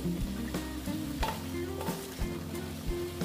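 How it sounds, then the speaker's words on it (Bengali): A pan of soybean and chickpea lentil curry sizzles and bubbles steadily as hot water is added, a soft continuous frying hiss with light stirring knocks, fairly quiet and close. "আমি কিন্তু একদম গরম জল অ্যাড করছি, জানো তো, আমি ঠান্ডা জল দিচ্ছি না কিন্তু।"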